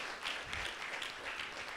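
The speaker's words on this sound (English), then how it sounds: "I want us to show another appreciation for them with a round of applause." Steady, fairly faint applause from a conference audience for panelists at an SDG investor event, an even wash of clapping with no voices over it.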